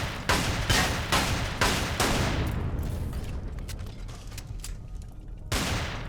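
Rapid automatic gunfire using cheap ammo in Empyrion Galactic Survival on an alien world: loud, evenly spaced broadband bursts repeat, fade into a lingering rumble, then one more burst cracks out near the end.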